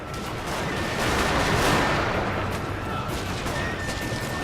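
Infantry rifle fire from a Fall of the Samurai battle in a strategy game, a dense steady crackle of many musket and rifle shots from a massed line, loud and unbroken.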